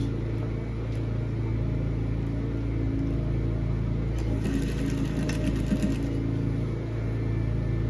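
A sewing machine steadily stitching a seam on a kaftan, a continuous close mechanical hum and rapid whir with no pauses.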